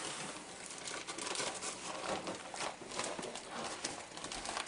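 A Ziploc bag of firmly packed brown sugar crinkles and rustles steadily as it is pressed and pushed through, close and continuous for the whole stretch.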